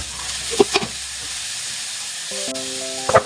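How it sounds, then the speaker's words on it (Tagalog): Garlic, onion, ginger and tomato sautéing in a pan give a steady, close sizzle and hiss, with a few stirring clacks and a short beeping tone near the end. "Igisa na natin ang bawang at sibuyas, pati na rin ang luya. Lagay na natin ang kamatis."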